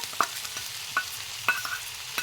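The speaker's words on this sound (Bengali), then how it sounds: "এবার আমি এখানে ভেজে রাখা চিংড়ি মাছগুলো দিয়ে দেব।" Fried prawns are added to a potato curry cooking in a pan, a soft sizzle under a few distinct clinks and scrapes of a spoon on the metal, close by with no talk.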